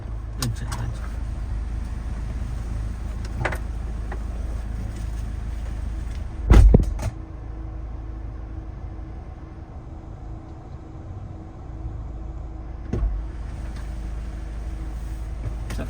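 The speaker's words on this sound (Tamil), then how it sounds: "இப்போ சுரேஷ் சார் அந்த வண்டி ஓட்டுறாரு." A Mahindra Thar off-road vehicle drives along a dirt track in Hosur, its engine a steady low rumble throughout, with a brief heavy thump near the middle and a lighter knock later.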